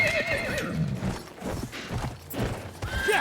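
In a cavalry video game, a horse gives a loud whinny over a quick patter of hoof clip-clops, with the neigh rising and falling across a few seconds and no voices.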